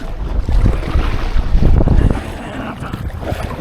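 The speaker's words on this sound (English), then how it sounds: "Bloody wind! Ah, it's friggin' terrible." Gusty wind buffets the microphone at a lake during a fishing trip, a loud low rumbling roar that swells and fades continuously with no other sounds standing out.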